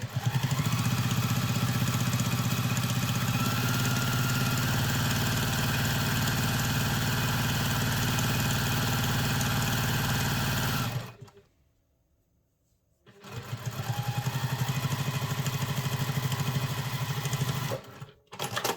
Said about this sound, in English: on my machine I use a stitch length of 3 for my top stitching.